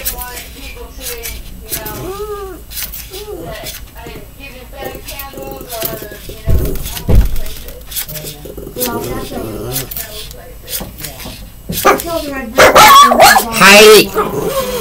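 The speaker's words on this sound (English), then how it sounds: "my dog is barking because she hears my roommate talking in the hallway" A dog barks and yips repeatedly at close range, mixed with whimpers and a person talking, growing louder toward the end.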